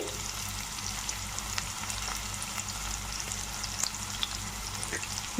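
Curry leaves fry in a pan with onions, making a steady, even sizzle that hisses continuously at close range with faint stirring ticks. No speech is heard.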